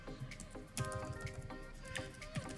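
Fingers type on a computer keyboard in a quick, uneven run of close, crisp key clicks heard alone.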